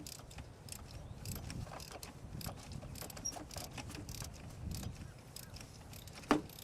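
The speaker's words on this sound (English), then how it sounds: "And that's torquing it up right now." A ratchet torques a starter bolt on a 2005 Honda Accord, giving soft, repeated mechanical clicks against a low steady background, with one sharper click near the end.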